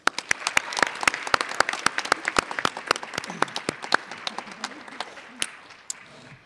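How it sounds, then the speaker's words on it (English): At a Martin Luther King Jr. Day celebration, an audience gives a round of applause: sharp, distinct claps in a quick, fairly regular pattern that gradually thin out and slow over about six seconds, with faint voices beneath. "Let's give one more round of applause for Dana."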